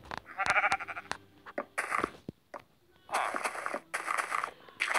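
Sheep in Minecraft Pocket Edition bleat in a run of short, nasal, close-up calls, several coming in quick bursts separated by brief pauses.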